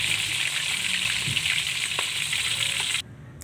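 Tilapia deep frying in oil until crispy gives a loud, continuous crackling sizzle with small pops, then drops sharply to a faint hiss for the last half second.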